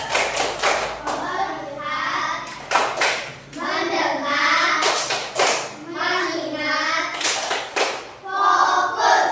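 A primary school class does the rhythmic 'tepuk fokus' focus clap, sharp group hand claps in short patterned bursts alternating with children chanting in unison, the whole class close and lively.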